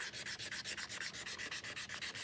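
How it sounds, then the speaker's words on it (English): Sandpaper worked by hand across a wooden surface, with fine grits up to 320, makes a close, steady back-and-forth rasping in a quick, even rhythm of about eight strokes per second, quiet and alone. "now I'm going to sand the opposite way"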